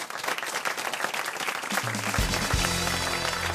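Studio audience applause on a French radio comedy show, a broad even roar of clapping that holds throughout while a low sustained tone rises beneath it toward the end.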